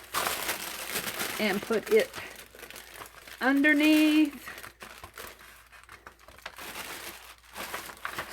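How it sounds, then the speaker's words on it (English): A sheet of wax paper is handled at an art journaling table, giving crisp crinkling and rustling bursts that come and go beneath a woman's ongoing speech. "Let's take this piece of wax paper"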